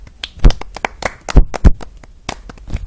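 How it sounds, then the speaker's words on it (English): Scattered hand clapping from a small group of classroom students, a short uneven burst of claps of varying loudness with no talk over it. "Can you give a big round of applause?"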